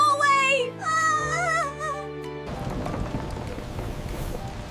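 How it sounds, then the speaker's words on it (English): Heavy rain falls steadily after a stretch of tonal music, with a rushing, broadband wash filling the second half. No distinct thunder claps stand out. "It's raining heavily outside."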